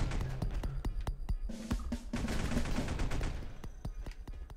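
Rapid automatic gunfire from the video game Space Beast Terror Fright, a sharp, loud stream of closely spaced shots that rattles on almost continuously, with heavier blasts blending in midway and no talking.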